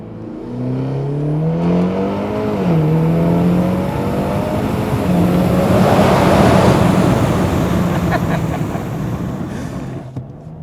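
A Stage 3 BMW G20 330e plug-in hybrid with DCE exhaust valves open, tuned to 485 hp, drones and rises in pitch as it accelerates, loud and continuous, then fades with a brief lift near the end; no voices.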